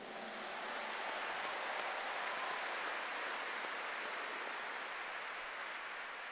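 Sustained applause from a church congregation at a Catholic service, a dense, even wash of clapping that rises quickly and holds steady for several seconds without voices on top.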